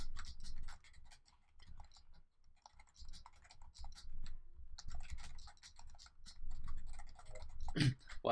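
Keys clatter on a computer keyboard as a reply is typed on Twitter, quiet close clicking in uneven bursts and short pauses, ending with a couple of louder taps.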